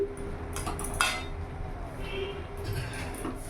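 Boiled potato, carrot and papaya stirred together in a metal pan, with close, scattered spoon scrapes and clinks against the pan under a steady room background.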